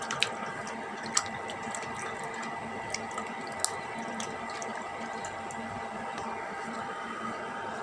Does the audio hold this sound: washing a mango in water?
yes